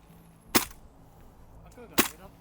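Two sharp airsoft gun shots crack out about a second and a half apart during an outdoor game among barricades, fairly close and loud over quiet background.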